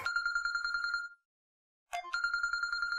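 A telephone ringtone chimes in two bursts separated by a short silence, clear and fairly close.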